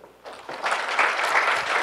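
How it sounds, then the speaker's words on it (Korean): An audience claps at a Korean corporate product presentation, applause starting after a quiet moment and swelling into steady, dense clapping that keeps going to the end. "박수 부탁드립니다."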